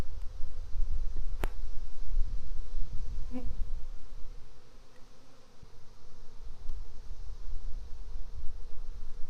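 Honeybees buzz steadily in a hive in a dense, droning hum, close and continuous, with a sharp click early on.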